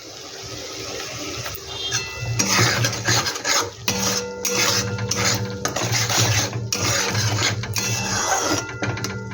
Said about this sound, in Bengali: এই মশলাটা একটু ভালো করে কষিয়ে নিতে হবে।